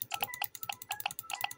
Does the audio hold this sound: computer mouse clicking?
yes